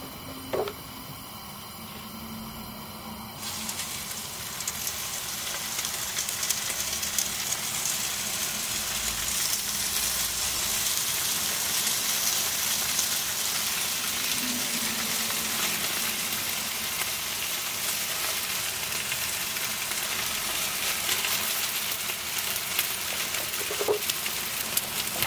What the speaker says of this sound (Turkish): yüksek ateşte böreklerimi kızartmayı bırakıyorum